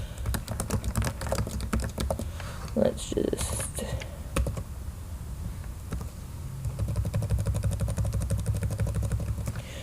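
Typing on a computer keyboard while writing in Scrivener, rapid close clicking keystrokes in bursts, pausing briefly while a voice speaks, then resuming in a steady patter.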